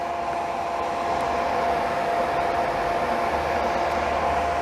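A TIG welding machine with a gas lens torch running at 40 amps, giving off a steady, continuous hiss with a faint buzzing hum that holds level and close throughout with no pauses.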